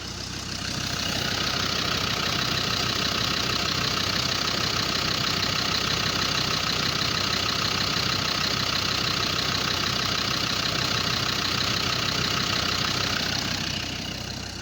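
A car engine runs steadily and noisily at idle, a continuous loud mechanical drone with a harsh rattling edge, after a stop-leak treatment for a leak; it holds nearly unchanged for the whole stretch with no voices.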